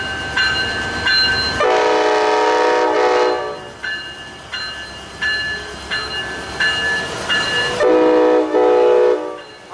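Amtrak train 14, northbound to Seattle, pulls out of Santa Barbara station with a loud, close horn: a long blast, a series of short toots, then another long blast.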